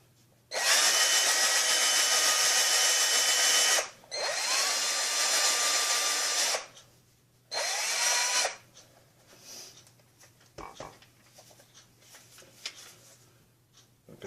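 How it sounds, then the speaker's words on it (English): A power drill whirs in three bursts of a few seconds each, loud and close, spinning a polishing attachment on a vape mod, followed by quieter handling clicks and taps. "You're already using your drill to polish your mod."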